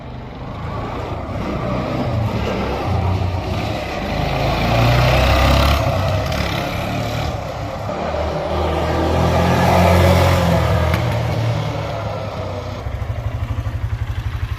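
A 2007 Kawasaki Bayou 250 ATV engine runs at a steady idle close by, a low even rumble that rises and falls gently, with no talk.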